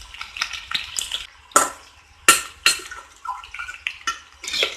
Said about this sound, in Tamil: எண்ணெயில வந்துட்டு இந்த வாழைப்பூ இப்படி ஊற்றி விட்ட மாதிரி தனித்தனியாக விழுகிற மாதிரி இப்படி போட்டுருங்க